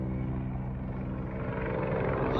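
A military helicopter in Ukraine engaging a Shahed drone gives a continuous, loud rotor and engine drone with a steady low throb that stays even throughout, and nobody speaks.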